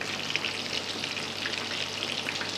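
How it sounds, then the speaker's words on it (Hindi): Chicken burger patties fry in hot oil with a steady, dense sizzle and crackle that runs unbroken throughout, close and fairly loud, with no voices. "हमने इन पैटीज़ को सिर्फ इतना फ्राई करना है कि बाहर से ये अपनी शक्ल बरकरार कर लें"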